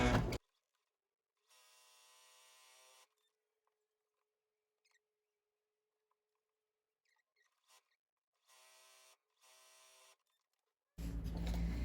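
A sewing machine stitches two fabric pieces placed right sides together for a dress, running in short separate bursts of whirring between stretches of near silence, with a few faint clicks in the gaps.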